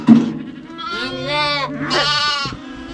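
Lambs and sheep bleat inside a farm barn, with two long, loud, wavering cries close by after a brief thump, set against a quiet background hum.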